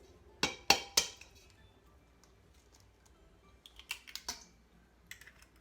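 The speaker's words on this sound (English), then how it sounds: "So I'm gonna crack our 2 eggs." Two eggs cracked into a big mixing bowl for banana bread, with three sharp shell taps close up, followed by softer clicks and light clatter from handling the shells.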